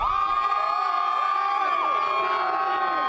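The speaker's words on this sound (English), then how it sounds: "It's electric here. The crowd keeps growing." A huge crowd cheers without pause at the Philadelphia Eagles championship parade in the streets, a dense, loud roar with whoops, shouts and sustained horn-like tones layered throughout.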